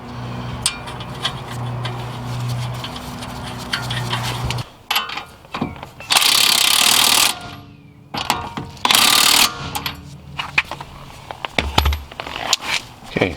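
Wrench work tightening bolts on a Mercedes C-, E-, S- or CLS-class suspension thrust arm: clicking ratchet and metallic clanks near, with two bursts of loud hissing air noise and scattered knocks.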